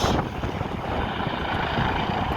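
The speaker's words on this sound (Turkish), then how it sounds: "O helikopter keşif yapıyor." Loud, steady rotor and engine roar with heavy wind-like rush, a continuous helicopter drone with no talking, a search helicopter over a canal in Utrecht, Netherlands.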